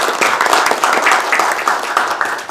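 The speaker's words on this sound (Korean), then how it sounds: "박수 환영입니다" An audience at a Korean New Year panel forum claps in welcome as a guest is introduced, a loud burst of applause sustained throughout.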